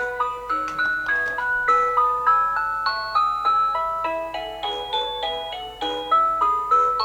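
A tinny electronic snow globe music-box tune plays on, bright chiming notes in a steady lilting rhythm with a faint hum beneath, loud and close.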